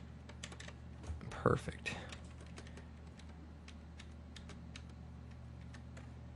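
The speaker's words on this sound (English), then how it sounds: "I'm just hitting page down and just going through it" Computer keyboard keys pressed repeatedly while paging down through frames, a string of light, sharp clicks at an uneven pace, fairly faint, with a brief spoken word partway through.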